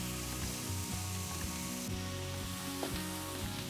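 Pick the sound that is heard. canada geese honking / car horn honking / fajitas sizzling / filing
fajitas sizzling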